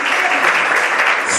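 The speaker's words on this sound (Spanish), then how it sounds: "Un aplauso al Señor." A church congregation breaks into steady, dense applause at a Spanish-language service, the clapping loud and continuous throughout with no pause.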